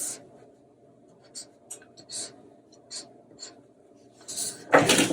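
A felt-tip E43 marker is stroked across paper in short scratchy bursts, quiet and close, ending with a louder rustle of handled paper.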